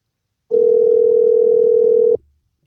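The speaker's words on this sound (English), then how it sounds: "Wow, that was really nice the way that you really let that phone ring." A single steady electronic phone tone, like a ringback on a call, sounds loud and continuous for about a second and a half, then cuts off into silence.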